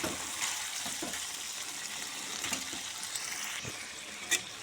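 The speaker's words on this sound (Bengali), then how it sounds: "বন্ধুরা, এবার আমি মশলার সঙ্গে চিকেন ভালো করে মিশিয়ে নিব।" Chicken being mixed with spices in a pan for a desi chicken curry, giving a steady soft sizzle with scraping stirs and a few sharper clicks, no talking.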